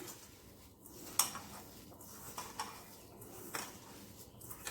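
A spoon stirring ground sugar into a milk powder penda mixture in a bowl, quiet intermittent scrapes and clinks recurring about every second, close and soft with no talking.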